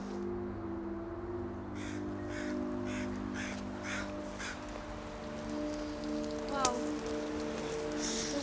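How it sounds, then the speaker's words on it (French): Rain falls in a Canadian forest as a steady patter mixed with wind, while a crow caws repeatedly in a series of short calls and a low hum runs underneath. "Il commence à pleuvoir."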